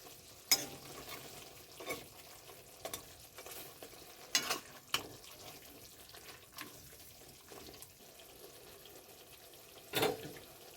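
Fried pabda fish go into a simmering jhal curry in a pan, making soft clatters and sharp clinks of utensil against pan at irregular moments over a quiet, faint bubbling background.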